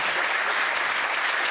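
A television studio audience applauds a guest lawyer, Maître Richard Legrand, with dense, steady clapping filling the whole stretch at an even, moderate level and no voices on top.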